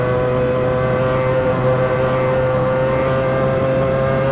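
Simulated Mazda 787B race car engine in Assetto Corsa, held at high RPM at speed: a steady, loud, buzzy harmonic drone with no breaks, no voices.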